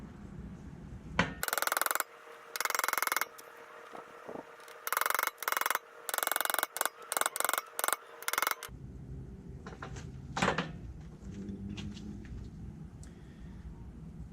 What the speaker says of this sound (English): you're going to take a punch and a hammer on a solid surface